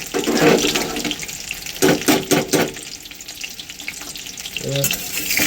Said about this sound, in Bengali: আমার পকোড়া দিয়ে ভাজা হচ্ছে।